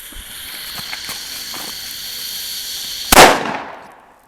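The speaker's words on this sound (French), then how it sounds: "faire un trou pour mettre le pétard à l'intérieur pour qu'il ait un plus grand effet" A firecracker set inside a hole in clay goes off with one sharp, loud bang that quickly decays, preceded by a fizzing, hissing fuse and light rustling sounds.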